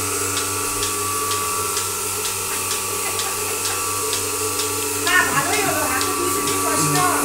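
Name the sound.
Turkish Melasty milking machine running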